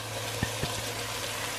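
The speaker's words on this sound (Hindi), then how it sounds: "थोड़ा सा मैं गर्म पानी डाल रही हूँ।" Hot water is poured into a pan of lightly browned onions with salt, red chili and turmeric while cooking aloo matar sabzi, giving a brief, soft hissing wash with a couple of small splashes.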